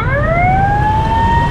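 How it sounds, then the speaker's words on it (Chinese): A loud ambulance siren passes close by on a Ho Chi Minh City street as traffic gives way. It wails alone over a low engine rumble. "让给救护车过，"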